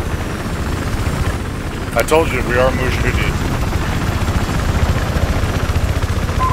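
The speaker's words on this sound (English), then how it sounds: "I'm gonna try to put the chopper between us." Helicopter rotor and engine drone in Battlefield 4, a steady loud whirring wash throughout with a voice speaking briefly over it.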